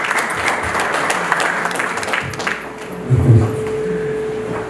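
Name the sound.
audience applause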